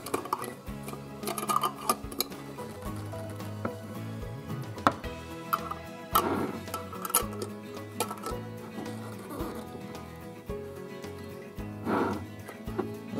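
Metal lids are screwed and clicked shut on glass jars of beef during home canning, giving a run of irregular taps, clinks and scraping turns, close and moderately loud, with no talking.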